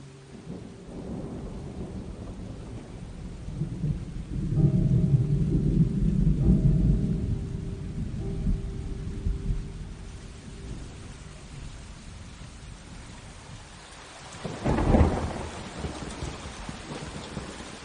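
Heavy rain pours steadily under low, rolling thunder, which swells in the middle and is followed by a sharper, nearer crack near the end, with no voices.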